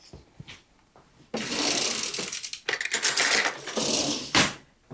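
Aluminum foil peeled off a baked chicken and rice casserole for two, loud bursts of crinkling and rustling close to the microphone after a quiet start, with no talking.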